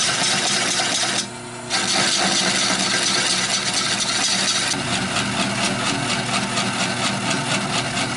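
A wood lathe spins a big maple bowl while a tool cuts off its tenon, giving a steady, loud, rough broadband whir with a short dip near the start and a harsher texture in the later part.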